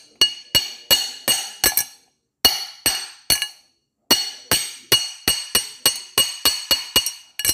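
A hammer taps a metal cover again and again to work it loose, making bright ringing clinks in quick bursts of four or five strikes separated by short pauses, close and clear with no talking.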